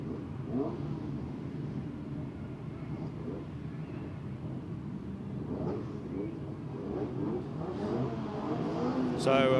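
Autograss racing cars from the British Autograss Series pull away from the start line in a ladies class 6 heat, engines revving and building in a steady broadband roar that swells toward the end, with a commentator talking over it.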